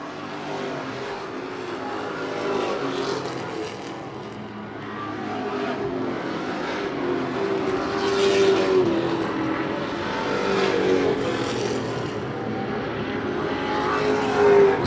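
Race cars battling on a track, the engines roaring and revving loudly as they pass, with a continuous layered drone that swells and fades, heard from trackside without talk.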